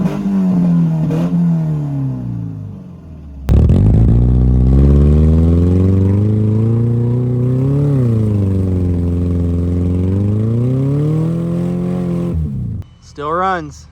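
A car engine revs hard from an idle, surging into a loud, sustained roar with rising and falling pitch for several seconds before dropping back, then a short final blip.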